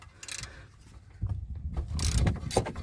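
Socket wrench ratcheting a brake caliper pin loose on a Skoda Superb Mk3 during a rear brake pad change, a close run of quick clicking ratchet strokes growing denser toward the end.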